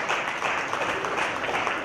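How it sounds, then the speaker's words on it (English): Audience applause at a youth day community event in Sweden, a steady, dense wash of clapping throughout the short moment with no pauses. "Please give her a round of applause."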